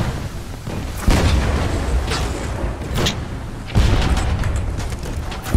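Mortar blasts from a pirate ship in Blazing Sails land as two heavy booms a few seconds apart, over a steady rumble of wind and sea with scattered crackles.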